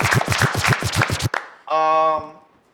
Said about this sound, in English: Clap it up for Mike